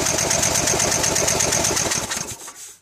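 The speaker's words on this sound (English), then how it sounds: "So this is pulling the cord." A small engine spun by a pulled starter cord, a rapid rhythmic chugging that runs evenly for about two seconds, then slows and dies away to silence.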